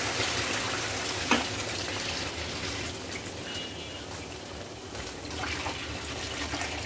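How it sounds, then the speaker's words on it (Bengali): Water is poured into cooked, braised chicken in a pan, giving a steady close wash of gushing and sizzling that runs the whole time, with no voices. "এখন পানি দিয়ে দেব"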